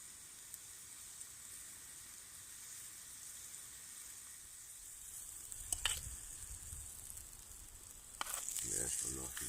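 Bacon sizzles steadily in a pan at a woodland wild camp, a soft continuous hiss with a couple of louder crackling bursts toward the end, heard alone without talk.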